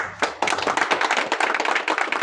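A crowd at a union general body meeting claps loudly in a dense, steady burst that runs the whole time, with no talking over it.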